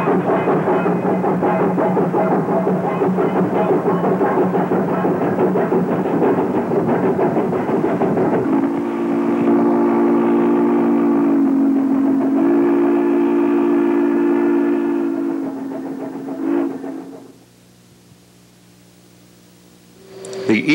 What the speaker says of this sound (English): Backs a train of empties to the quarries.